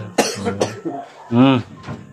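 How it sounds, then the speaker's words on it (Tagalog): A few sharp, harsh coughs close by, mixed with short voiced throat sounds and breathy exhalations. "May ubo pa"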